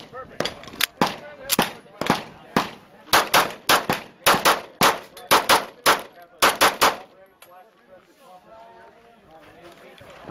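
Sarsilmaz SAR CM9 polymer 9mm pistol fired at a SHOT Show range, a fast series of about a dozen sharp, loud reports in quick irregular rhythm, then quieter background noise.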